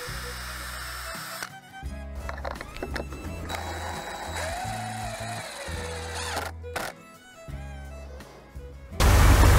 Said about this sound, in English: I'm going to drill pilot holes for those screws to avoid splitting the wood.